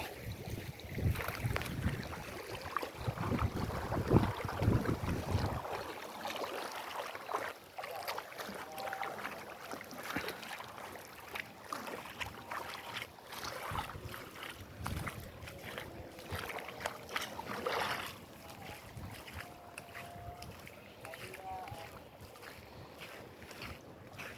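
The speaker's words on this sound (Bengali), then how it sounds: "বৃষ্টি নামতেছে আবার বৃষ্টি নামতেছে" Rainwater runs along a large road in Saudi Arabia during rainfall, a soft, steady rushing wash with light gusts of wind noise, heard at a fair distance and fairly quiet throughout.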